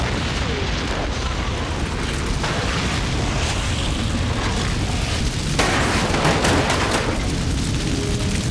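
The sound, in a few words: truck explosion in Smallville TV episode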